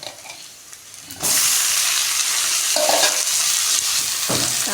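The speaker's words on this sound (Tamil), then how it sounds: "இப்போ நம்ம தக்காளி போட்டுக்கலாம்" Tomatoes dropped onto onion, garlic and spices in a hot pan for an okra curry: a quiet stir at first, then a sudden loud burst of sizzling that keeps on steadily with a few stirring scrapes.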